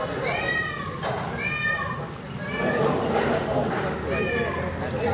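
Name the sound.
cat meowing during rescue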